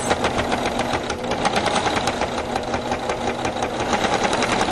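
A sewing machine with a walking foot runs a steady straight stitch through quilt layers, its fast even needle rattle and motor hum continuous and close throughout, with no talk.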